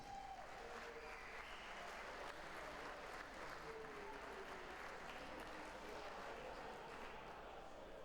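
Darts crowd at the Tri-Nations British Open ladies final applauding for Corinne Hammond: a steady, dense wash of clapping that holds evenly for eight seconds, fairly distant and soft, with faint voices mixed in.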